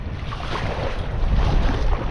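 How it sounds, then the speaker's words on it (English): Sea water breaks against a rock beside a kayak off Anglesey, a close, rushing wash. Gusty wind buffets the microphone over it, with the surge building slightly near the end. "Water's just breaking on it."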